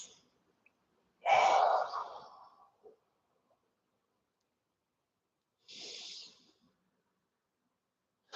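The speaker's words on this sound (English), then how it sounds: "Big breath in." A deep breath drawn in during a guided movement and breathing routine, a loud, close inhale near the start followed by a quieter second breath a few seconds later, with silence between.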